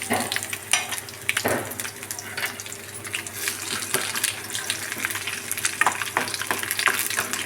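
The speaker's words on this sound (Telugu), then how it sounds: "నూనె వేడెక్కిందండి తాలింపుకి తాలింపు ఇందులో చిన్న ప్యాచెత్తి వేసుకొని ఎండుమిరగాయలు వేసుకుంటున్నానండి" Dried red chillies tempering in hot oil in a pan, a dense close sizzle and crackle running throughout with a few clinks and stirring knocks, no talking.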